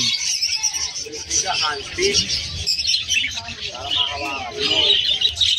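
Hagoromo Inco parakeets at a pet market in Malabon, bright high chirps and tweets repeating nearby throughout, heard under someone talking.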